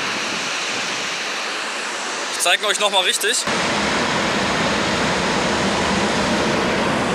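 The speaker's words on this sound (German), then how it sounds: "So, wir sind am Wasserfall angekommen jetzt." Jungle waterfall in northern Australia, a loud constant broadband roar of rushing water, briefly cut by someone speaking close up before the steady rush resumes.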